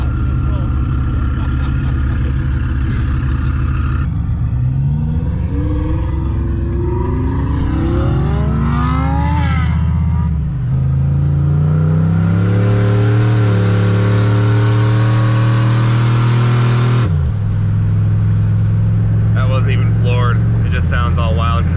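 A turbocharged GMC Yukon accelerates on a mountain drive, its engine note climbing and sweeping through rising revs with whooshing turbo and wastegate sounds, close and loud throughout, with people talking over it.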